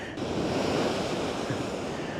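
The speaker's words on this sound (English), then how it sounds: "that wave almost took me out" Ocean surf breaking on a shore at a seascape photography spot, a steady roaring wash of water with wind noise across the microphone, close and loud throughout.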